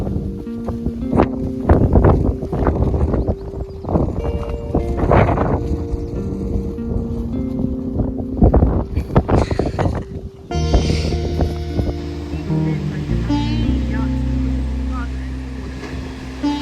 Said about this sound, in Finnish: täällä tuulee vähän.